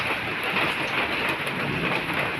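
Steady rain pouring down outdoors, a dense continuous hiss of falling drops at even loudness with no voices.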